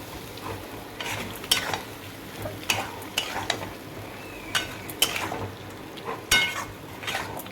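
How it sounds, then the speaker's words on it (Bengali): Vegetables that were fried earlier, cauliflower and potato, are stir-fried with cooked spice paste in a pan, giving soft sizzling under repeated sharp scrapes and clinks of a spoon against the pan at an uneven rhythm. "তো ভেজে রেখেছিলাম যে সবজিগুলো দিয়ে দেবো। তো ভালো করে একটু কষিয়ে নেব।"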